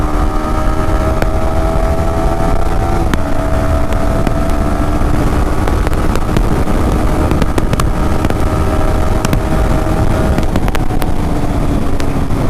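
Yamaha R15 V3 BS6 motorcycle pulling hard in city riding, its engine note climbing through gears under heavy wind rush from the rider's microphone, loud and continuous throughout.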